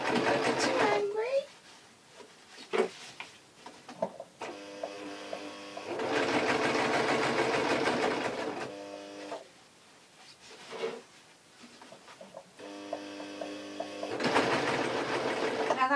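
A sewing machine runs a straight stitch along a taffeta seam in several sustained bursts of rapid, steady whirring, separated by quieter gaps where a person talks.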